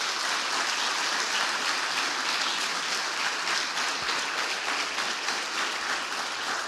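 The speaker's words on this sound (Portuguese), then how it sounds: "Aplaudam Jesus bem forte." Steady, loud applause from a church congregation during a celebration worship service, a dense wash of clapping that holds evenly for several seconds with no voices over it.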